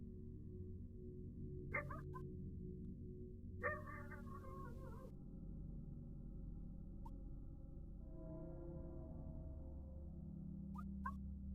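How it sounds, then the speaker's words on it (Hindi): Dogs bark a few times in short, faint bursts, seemingly at a distance, over a steady low rumble with no one talking. "इसके अलावा कुत्ते भौंक रहे हैं भाई"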